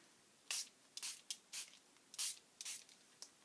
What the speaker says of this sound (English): We're going to spray it on here